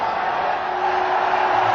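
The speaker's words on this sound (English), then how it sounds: "Crowd lets everybody know that this game will start" A stadium crowd roars steadily at the start of a 2002 one-day international cricket match between India and England in Delhi, a dense, sustained wall of noise with no individual voices standing out.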